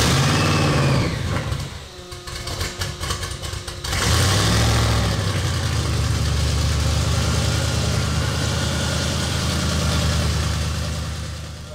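A DeBerti C10Slayer truck engine warms up cold on a dyno with fans running, a loud steady rumbling idle that dips briefly and then settles into a constant heavy drone.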